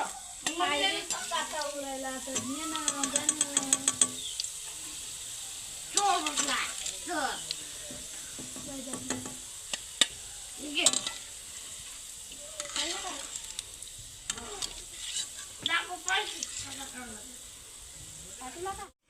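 Green chillies frying until crisp in a pan on a wood-fired stove for Diwali puffed-rice and poha chivda, a steady sizzle with stirring scrapes under someone talking throughout.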